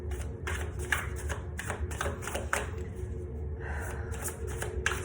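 Close, crisp bursts of tarot cards being shuffled, a series of papery slaps and riffles in uneven rhythm over a low steady background hum.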